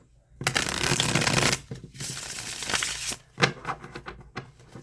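A deck of tarot cards being shuffled by hand during a reading, with dense riffling bursts that start and stop in uneven spurts, close and fairly loud, with no talking.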